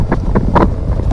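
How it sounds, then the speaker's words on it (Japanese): Loud, rumbling boat engine noise at a harbour in Onahama Bay, a heavy low drone with wind buffeting the microphone in gusty pulses, close and continuous. "めっちゃ船の音がうるさいです"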